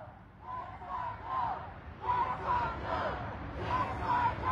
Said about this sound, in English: the crowd is getting amped up